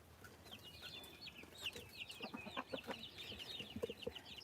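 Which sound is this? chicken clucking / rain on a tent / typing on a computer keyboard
chicken clucking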